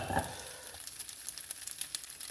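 Leftover pasta with sausage and peas reheats in a pan, giving a soft continuous sizzle with light crackles and faint scraping, close and low in level, with no voices.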